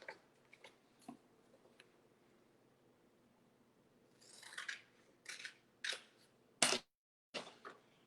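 Quiet, close snipping of scissors cutting an adhesive-backed tri-mesh stencil along a printed line, a few soft crisp cuts with brief pauses between them.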